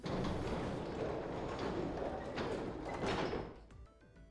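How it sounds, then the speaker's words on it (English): A heavy gate in the game 9 Hours 9 Persons 9 Doors sliding and creaking open, a faint grinding scrape lasting about three seconds before settling into quiet background music. "On Junpei's signal, they both pushed, and the gate creaked open"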